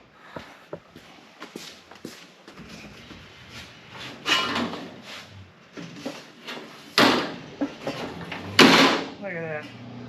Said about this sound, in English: open this door and give us a little more room